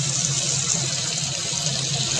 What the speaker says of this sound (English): Now we'll add the yellow lentils along with the water that we have soaked them in.